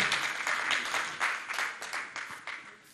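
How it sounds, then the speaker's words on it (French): An audience at a sustainable-construction conference in Africa applauding a speaker, a sustained burst of many hands clapping in a hall that swells and then gradually thins out toward the end. "Nous applaudissons très fort Monsieur Crouzet."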